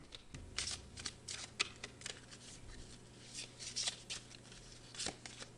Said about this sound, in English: let me pull some more cards for you